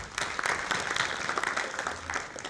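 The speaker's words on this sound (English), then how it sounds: "Can we have a big round of applause for him?" An audience at an accounting seminar in Ahmedabad gives a speaker a round of applause, a short burst of dense, moderately distant clapping that holds steady for two and a half seconds.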